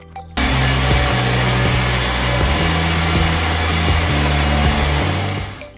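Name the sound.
WB2000 sawmill sawing logs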